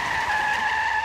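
A car's tires skid on the road in a single sustained high-pitched squeal lasting about a second, loud and steady with no voices.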